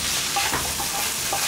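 Samosa filling stirred and cooked over a high flame, giving a steady broadband sizzle with soft scraping strokes of the spoon, close and continuous, no voices.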